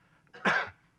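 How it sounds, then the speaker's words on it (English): A single short, rough cough from a lecturer, close and moderately loud, alone against a quiet room. "And pardon my cough"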